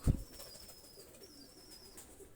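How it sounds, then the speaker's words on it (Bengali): Pakistani high-flyer running pigeons give soft, low cooing in a quiet setting, with a brief louder burst at the start before the calls settle into faint murmurs. "দুইটা কবুতর ছেড়ে দেখাচ্ছে"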